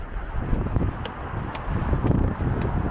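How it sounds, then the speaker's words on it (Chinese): Strong wind buffets a microphone while cycling along a street in Xiamen on a blustery day, a heavy low rumbling roar that surges and dips continuously, with faint traffic beneath. "那个厦门天气说是有大风啊，降温"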